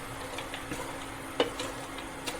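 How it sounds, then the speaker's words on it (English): Cashew nuts being dry-roasted in a pan, with faint scattered ticks and light stirring scrapes over a soft continuous hiss, close and quiet. "Now roast the same cashew nut."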